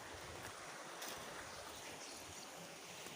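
A waterfall beside a concrete platform pours as a faint, steady broadband rush of falling water, with no voices.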